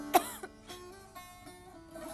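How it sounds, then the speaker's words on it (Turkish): A woman coughs once sharply and close, followed by a few softer throat sounds over a quiet background of faint music. "Fena öksürmeye başladın."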